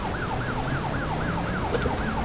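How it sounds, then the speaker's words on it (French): Police siren mounted on the roof of a vehicle in the video game Tactical Intervention, a rapid repeating wail cycling steadily over engine rumble, loud and continuous. "On a la sirène en haut."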